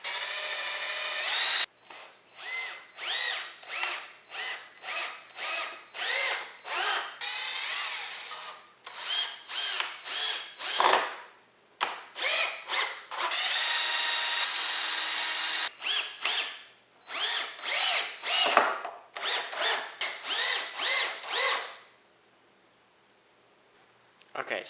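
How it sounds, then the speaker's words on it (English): A cordless power drill drives screws into a pallet wood frame, with repeated bursts of whirring, some long and some short and stuttering, close and loud, with pauses between runs and a quiet stretch near the end. "I was screwing in that last screw"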